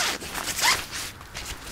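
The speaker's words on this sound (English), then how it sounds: "zip it up" Zipper on the door of a No Limits Sunlight Peak one-man tent pulled in one quick, close zip, with faint rustling of tent fabric around it.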